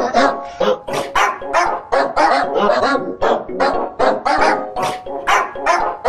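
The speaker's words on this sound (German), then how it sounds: "Ihr kriegt zum Ende einen Hund." A dog barks loudly and close in a rapid, continuous series of sharp barks with a few yips, alone without talk.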